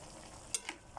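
A utensil stirs chicken liver adobo frying in a pan, a couple of quick scraping clicks over a steady low sizzle, close by.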